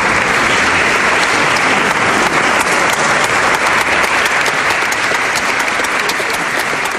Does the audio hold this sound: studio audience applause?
yes